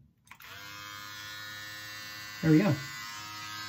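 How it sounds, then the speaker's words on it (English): Electric hair clippers with a built-in vacuum, set to the top setting for a home haircut, run with a steady motor hum from just after the start, while a voice briefly speaks over it near the end. "We're gonna start with our clippers here. This has a little vacuum in it."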